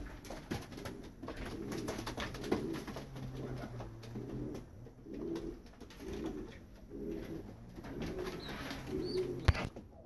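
A silver mottled male pigeon calls at the nest with repeated low cooing phrases in a steady rhythmic series, close but fairly quiet, over faint background chirps and rustling.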